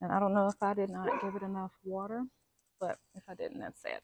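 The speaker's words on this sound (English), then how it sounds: "Excuse my dog, he's taking a poop." A dog whimpers and yips briefly outdoors in a spring garden while someone talks over it.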